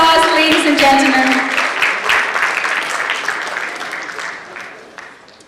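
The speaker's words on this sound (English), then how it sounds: "Please welcome him with a huge round of applause, ladies and gentlemen." An audience at a teen hero awards ceremony applauds as a jury member is introduced, a bright, dense clapping that starts loud, stays lively, then gradually thins and fades, with a voice briefly audible over the opening.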